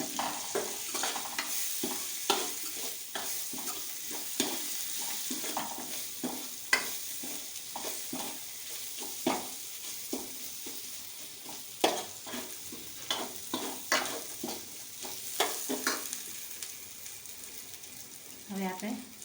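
A spoon scrapes and stirs a mixture of ginger and crushed peanuts in a pan for a potato-based sandwich filling. The strokes are steady and rhythmic, with a faint sizzle underneath.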